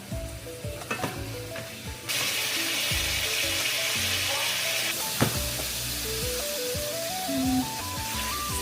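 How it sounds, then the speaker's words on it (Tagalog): Chicken sears in a hot pan with a steady, loud sizzle that swells after a couple of seconds and holds, with occasional stirring clinks and soft background music. "Sear natin ang chicken"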